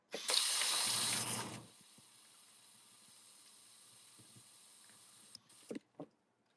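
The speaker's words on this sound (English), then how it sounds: "I fill it up with this and then I fill it up with warm water" Warm water runs from a tap into a container for laundry, a loud steady gush for about a second and a half, then a faint hiss and a few small clunks and splashes near the end.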